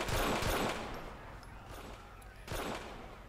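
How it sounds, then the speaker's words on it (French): Gunfire in the video game GTA IV during a police patrol mod, two rolling bursts of rapid shots with a booming, washed-out tail, loud and without talk. "On nous tire dessus."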